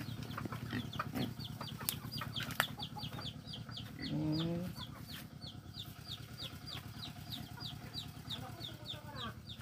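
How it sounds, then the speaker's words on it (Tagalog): Several chickens clucking in short repeated bursts on a rural farm, moderately distant, over a low engine-like hum, with a brief louder call midway. "Mga manok."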